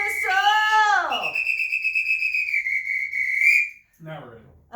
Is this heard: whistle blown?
yes